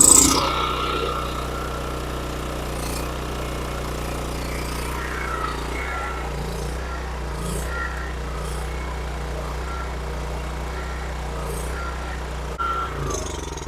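A Honda generator runs on old fuel after its carburetor is cleaned, a loud, close, steady engine drone that holds an even pitch throughout with no talking.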